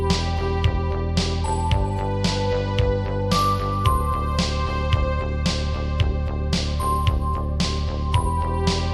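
A layered synthwave track made on a Casio CZ-101 plays continuously, with a steady pulsing bass, shimmering bell-like notes blooming every second or so, and a dreamy sustained wash.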